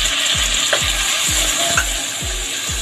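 Tomatoes frying in a pan for chicken binagoongan, a steady loud sizzle under regular scraping strokes of a spoon stirring about twice a second, with no voices.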